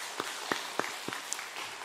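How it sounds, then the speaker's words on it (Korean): A church congregation gives a few scattered, distinct hand claps, spaced roughly evenly and fairly soft against a quiet room. "우리 박수로 하나님께 영광 올려드리겠습니다."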